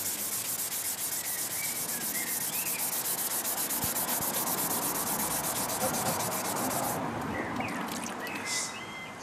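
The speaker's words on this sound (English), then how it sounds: "And finish with the sandpaper." Fine 1200-grit sandpaper rubs rhythmically over a Zimbabwean stone sculpture, a close, steady scratchy hiss of rapid back-and-forth strokes lasting several seconds, with faint birds in the background.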